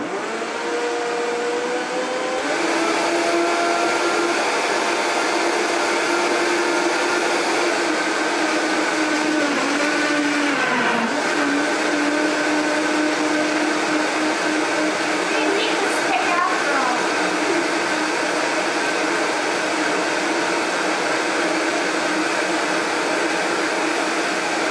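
A blender runs loud and steady, crushing ice into a green smoothie, its motor whine dipping and shifting in pitch as the load changes, with a voice faintly audible beneath the roar.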